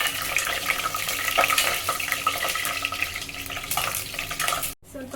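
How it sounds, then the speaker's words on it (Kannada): Marathi moggu, cloves and mace frying in a pan, a steady broadband sizzle with scraping and clinking of a stirring spoon throughout, close and continuous, cutting off abruptly near the end. "ಮರಾಠಿ ಮೊಗ್ಗು, ಲವಂಗ, ಜಾಪತ್ರೆ ಒಂದು ಸ್ವಲ್ಪ ಫ್ರೈ ಮಾಡ್ಕೊಳ್ಳೋಣ"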